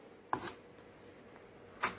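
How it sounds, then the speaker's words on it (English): A knife chops fresh herbs such as parsley on a board in a home kitchen, giving a few sharp, quiet taps spaced apart against low room noise, with no speech. "I am now going to be chopping up my herbs."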